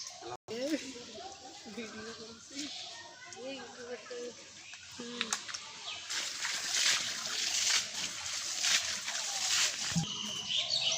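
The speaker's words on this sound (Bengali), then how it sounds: "এই যে আমাদের ছেঁকার কার্যক্রম হাত দিয়ে চলতেছে।" Water being scooped out by hand from a flooded courtyard pond to catch fish, with intermittent splashes and sloshing that grow busier toward the end, under someone talking.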